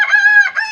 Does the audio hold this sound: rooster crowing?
yes